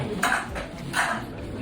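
Raw egg being stirred into warm rice in a bowl, with two short clinks of utensil against the bowl rising over a quiet background.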